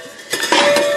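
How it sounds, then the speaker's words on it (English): A muffler slides over a steel cross member during an exhaust repair, giving a few close metallic clanks and scrapes that build into a sustained rattle with a faint ringing tone. "let's take our muffler here and slide her over this cross member"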